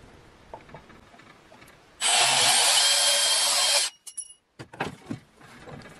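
A bandsaw cuts through metal held in a vise with protective jaws, producing a loud, steady, hissing grind for about two seconds before stopping abruptly, followed by a few clanks and handling noises nearby.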